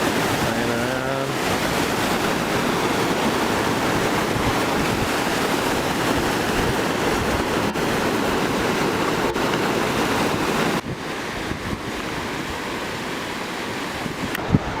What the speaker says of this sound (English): There it is. Nevada Fall. How gorgeous.